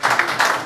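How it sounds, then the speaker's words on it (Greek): Old classmates of a 1959–1965 boys' gymnasium class in Tripoli, Greece, applaud their photographer at a reunion, a short close burst of hand claps. "ένα χειροκρότημα και τις ευχαριστίες μας"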